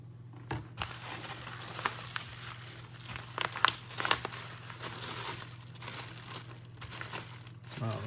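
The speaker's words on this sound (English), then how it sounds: "It's like tissue paper all wrapped up." Tissue paper is unwrapped from around items inside a mailed envelope, giving close, continuous crinkling and rustling with sharper crackles throughout, and a steady low hum underneath.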